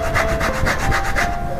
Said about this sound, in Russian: Для этого мы натираем на терке